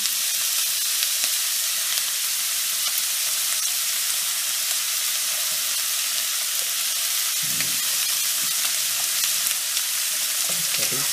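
Onion fries in a pan while cooking stuffed chipotle chiles with chicken, giving a steady, close crackling sizzle with a continuous hiss throughout and a few faint stirring knocks.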